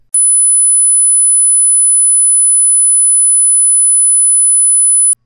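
A steady, pure 10,000 Hz test tone plays alone at an even loudness for about five seconds, beginning and ending with a soft click.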